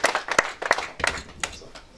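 Audience at an awards ceremony claps in uneven bursts, the applause loud and close, several sharp clap peaks over about two seconds.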